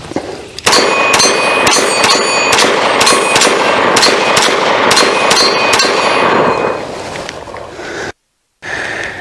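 A Magnum Research Baby Eagle 9mm pistol fires a rapid string of about ten loud, sharp shots with ringing echoes, followed by a brief gap of silence.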